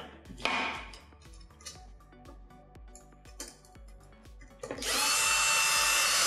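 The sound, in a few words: cordless screwdriver driving screws into Saeco Moltio brew unit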